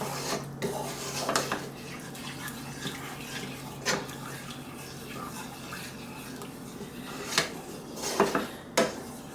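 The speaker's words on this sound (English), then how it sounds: "When it starts getting real thick, add a little bit more milk. Just stir it down." A spoon stirs a thickening milk white sauce in a pot for chipped beef on toast, giving soft irregular scrapes and a few sharper clinks against the metal, close and fairly quiet.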